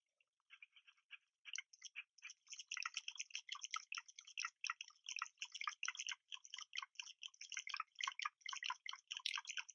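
Dogs lap water in a Nintendo DS dog game, a quiet rapid series of small wet drips and licks that picks up and continues steadily.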